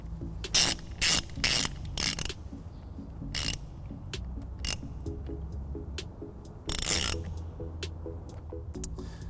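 Ratchet clicking in several quick bursts while a trailer-wiring fuse holder is tightened under a 2018 Dodge Grand Caravan, close and fairly faint, with a short pause and then one more burst.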